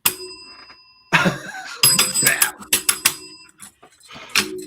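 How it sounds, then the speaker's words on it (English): A newly bought bell is struck several times in quick succession, bright ringing tones close and loud, with a voice in between the strikes. "It's the bell."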